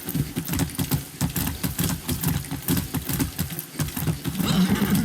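Horse in the video game Far Cry 6, heard as busy, rhythmic hoof and movement sounds mixed with game noise, with a brief neigh-like burst near the end.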